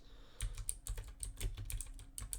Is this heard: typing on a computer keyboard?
yes